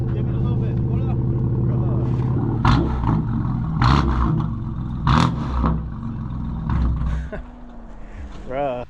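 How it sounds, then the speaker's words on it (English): A loud BMW F82 M4 with a straight-pipe AWE Track exhaust idles with a rough, raspy drone, then revs sharply several times in short bursts, with people talking over it. "That is what an F82 M4 sounds like with a complete straight pipe."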